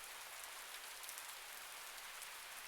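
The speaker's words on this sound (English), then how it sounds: "It looks like the rain's probably not going to let up for a while." Steady rain falls in a forest, an even, continuous hiss of drops on leaves and ground with no voices.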